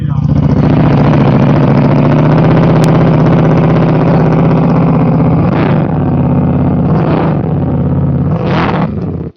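A PFmoto Starship 3 touring motorcycle with a single exhaust idles loudly and close, a deep steady throbbing broken by three short throttle blips before the engine cuts off.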